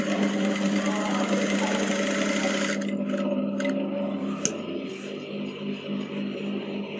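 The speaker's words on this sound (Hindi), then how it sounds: "तो यहाँ से बराबर रख के इसको स्टिचिंग लगा देनी है एक पहले तो राउंड में" A sewing machine runs steadily while stitching the collar of a kurti, its motor whirring without a break for a few seconds before the buzz softens and continues more quietly under a faint voice.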